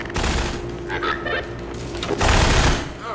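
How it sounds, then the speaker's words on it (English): Grenade blasts and gunfire from a firefight against Combine soldiers in the video game Half-Life 2, loud and dense, with sustained rattling shots and a heavier burst late on, while a voice reacts briefly. "Grenades!"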